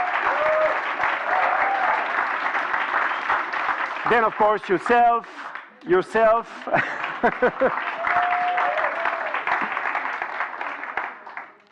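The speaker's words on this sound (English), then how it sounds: "So big applause for them." An audience at a youth work academy opening session applauds young volunteers from Slovenia, sustained clapping from a sizable crowd that carries on under a voice speaking briefly in the middle, then resumes evenly to the end.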